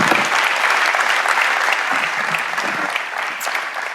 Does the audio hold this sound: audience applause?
yes